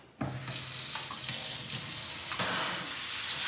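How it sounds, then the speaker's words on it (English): Tap water runs steadily over soaked, swollen rye berries in a colander, a loud continuous splashing gush that starts abruptly and persists with small shifts in tone as the grain is rinsed. "Just put it in a colander, run it under water for 30, 40 seconds"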